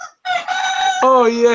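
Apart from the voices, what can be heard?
rooster crowing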